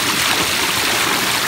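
Water pours steadily over the rock shelves of a backyard pondless waterfall, a continuous close splashing rush with no pauses and no voices.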